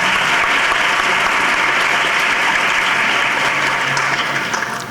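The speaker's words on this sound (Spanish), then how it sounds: "nuevamente pido un aplauso para él por su tiempo y por estar acompañándonos en este encuentro" Dense, steady applause from a conference audience closing a keynote lecture at an international meeting, loud and continuous before thinning slightly at the end.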